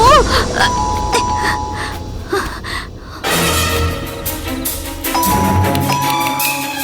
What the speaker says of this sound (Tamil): இந்த நேரத்துல வந்து காலிங் பெல் அடிக்கிறாங்க.